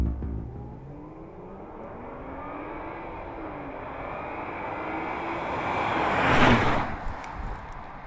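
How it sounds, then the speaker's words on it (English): A Jaguar XJ sedan accelerates hard from a standstill in a 0 to 60 run, its engine note climbing steadily and swelling to a loud peak near the end, with no talk over it. "In the 0 to 60 run, the XJ was quicker."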